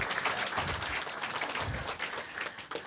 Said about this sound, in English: let's have one more round of applause for Michael.